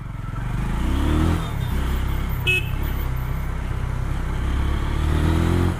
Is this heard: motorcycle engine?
yes